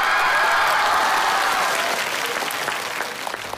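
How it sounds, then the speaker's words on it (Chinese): A Chinese comedy variety show audience claps loudly to welcome a performer onstage, dense sustained applause that gradually thins and fades toward the end. "掌声欢迎。"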